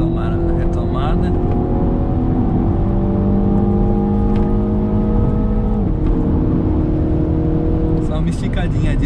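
A Mini Cooper S 2.0 Turbo accelerates on a highway, its engine drone rising steadily in pitch, dropping briefly with a gear change, then climbing again, with road and wind noise throughout.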